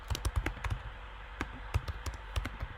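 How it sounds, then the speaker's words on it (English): Quick taps on a computer keyboard come in short irregular clusters, close and fairly quiet, with brief pauses between bursts and no talking. "Can I type to the chat this way? Oh man, this is... Just have to type over here."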